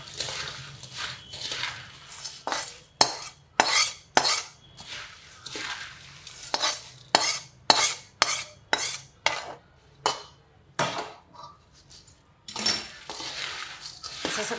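A metal spoon stirs hot tempering through a pan of puffed-rice chivda, giving rhythmic scraping clinks against the vessel, close and steady, with brief pauses between strokes.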